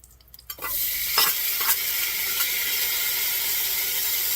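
Onions dropped into hot oil for a Cajun sausage and rice dish, starting quiet then erupting into a loud, steady hiss and sizzle with a few early pops, holding strong throughout.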